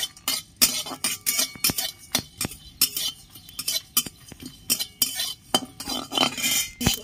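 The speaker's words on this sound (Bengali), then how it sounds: "কড়াই গরম হয়ে গেছে, মশলাগুলো সব আমি ভেজে নিচ্ছি।" Whole spices, dried red chillies, a little mace and cumin seeds, stirred in a hot wok with little or no oil, making a run of sharp metallic clinks and scrapes from the spatula at an irregular, busy rhythm.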